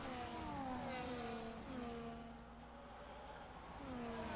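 Formula 1 race cars in the F1 25 racing game, a Ferrari and a Mercedes side by side during an overtake, their engines whining steadily with shifting pitch, continuous and moderately loud throughout.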